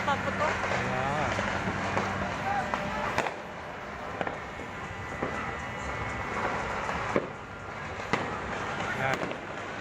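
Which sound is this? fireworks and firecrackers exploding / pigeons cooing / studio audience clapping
fireworks and firecrackers exploding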